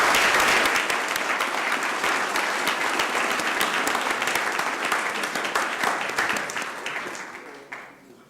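Roomful of people at a city council meeting clapping for a police captain being recognized, sustained applause that starts strong and gradually tapers off over eight seconds.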